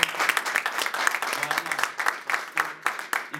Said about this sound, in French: Je voudrais qu'on acclame le Seigneur pour vos vies.